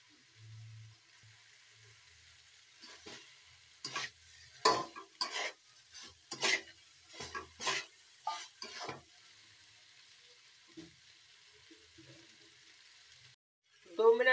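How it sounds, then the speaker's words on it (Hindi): Radish bhujia cooks uncovered over a full gas flame, giving a soft background sizzle with a run of distinct spoon scrapes and stirring clatters through the middle, then a quiet stretch before a brief louder rattle at the end. "इसे हम फुल आग पर पका रहे हैं"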